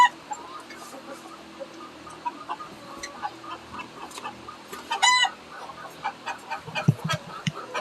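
Chickens cluck and chatter near and far in a farmyard, with irregular short calls and a denser burst of clucking partway through, and no talk.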